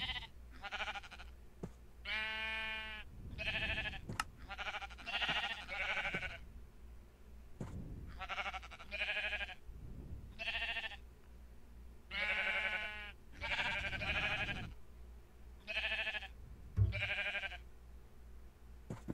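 Sheep bleating repeatedly in a Minecraft-style building game, with a steady series of loud, wavering calls recurring every second or two over a low background hum.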